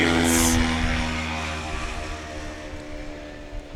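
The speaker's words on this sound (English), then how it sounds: "35-foot takeoff for Eddie Sanchez." A STOL competition airplane roars with propeller and engine noise as it takes off, loud and close at first, then steadily fading and droning as it climbs away.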